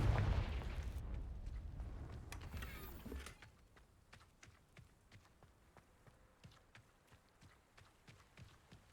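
A fiery Confringo spell blast in the game Hogwarts Legacy: a loud explosive burst and rumble for the first three seconds, then a quieter stretch of footsteps and clattering with no voices.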